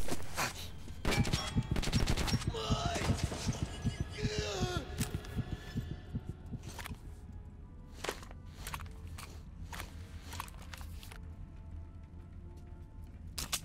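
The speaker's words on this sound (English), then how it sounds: "Stop shooting me!" Gunfire in the shooter game Metro 2033, sharp repeated shots and bursts clustered early, then sparser single cracks over a low rumble, with a voice talking now and then.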